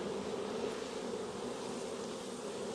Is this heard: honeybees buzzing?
yes